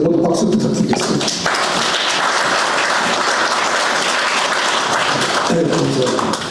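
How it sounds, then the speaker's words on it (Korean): Audience applause at a book launch event, loud and continuous from many hands, sustained evenly across the whole stretch with a brief voice or tap near the start. "여러분 여기 계신 모든 분들 그 가족들 위해서 모두 박수 부탁드리겠습니다"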